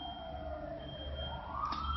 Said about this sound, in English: when you hear that siren